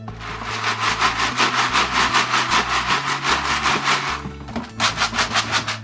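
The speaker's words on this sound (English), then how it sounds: "if you sift it well, when you pick it up, none of the sawdust will go on the floor" Wood pellet cat litter is shaken back and forth in a sifting litter box pan, making a rhythmic, close, gritty rasp of sawdust and pellets that pauses briefly near the end before resuming.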